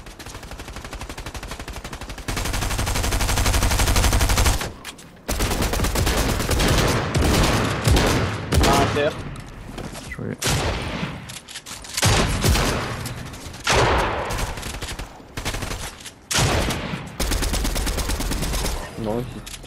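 Rapid bursts of Fortnite gunfire, loud and near, with repeated automatic volleys and single shots crowding the clip, separated by brief gaps and mixed with game effects.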